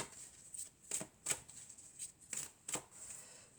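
Oracle cards being shuffled and drawn, a quick run of crisp riffling snaps in short separate bursts, close and fairly quiet, with no voices.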